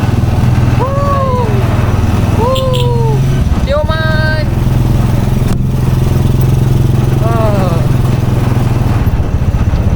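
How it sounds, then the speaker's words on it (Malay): A motorcycle engine drones steadily close by in Kampung Salang on Pulau Tioman, with a voice talking over it and a few sharp clatters along the way. "Remat motor orang."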